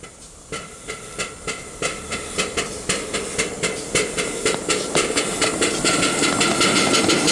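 Steam locomotive working with its blower hissing loudly, a rhythmic chuffing that starts slow and quickens into a dense, continuous hiss over about seven seconds.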